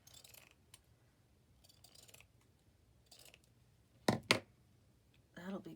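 Scissors trim fabric for a stitching needle keep: faint scattered handling rustles, then two crisp, close snips, followed by a brief voice.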